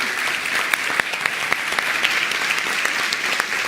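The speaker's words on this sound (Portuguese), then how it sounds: "Uma salva de palmas para a Letícia." An audience at a Portuguese-language prosperity talk gives a full round of applause, dense and steady for several seconds, with no speech over it.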